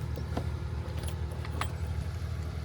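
Car keys jangle in short metallic bursts close by, over the steady low hum of an idling car on a cold road trip stop.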